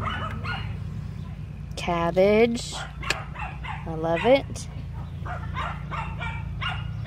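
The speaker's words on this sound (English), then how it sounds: "We got dogs barking." Dogs barking near a home vegetable garden, two short bursts of yelping, whiny barks at a moderate distance, with a person talking throughout.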